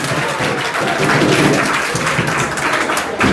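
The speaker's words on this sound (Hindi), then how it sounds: "दृढ़ शक्ति हाथों के लिए तालियां होनी चाहिए जोरदार" An indoor crowd at a ceremony honouring a teacher claps, a steady burst of applause from many hands at moderate loudness throughout.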